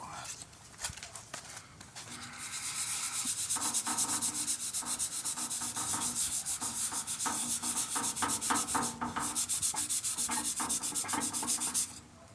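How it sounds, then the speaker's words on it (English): Dry sanding of primer with 400 grit sandpaper on a 1931 Model A Ford hot rod body, fast rhythmic back-and-forth scrubbing strokes close up, steady for about ten seconds then stopping. "I'm going to sand it with some 400, dry sand it"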